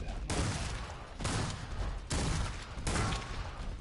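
Bursts of full-auto gunfire in Killing Floor 2, four dense sustained volleys with brief gaps between them, fairly loud against a quiet background.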